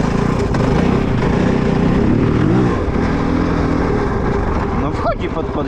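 A KOVE 450 Rally Chinese enduro motorcycle engine runs steadily and loudly up close, its odd uneven working note holding throughout with no talk over it.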